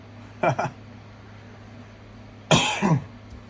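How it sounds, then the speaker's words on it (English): Two bursts of coughing, each a quick double cough, close and fairly loud, with quiet hum in between. "Sorry, that was a cough, guys."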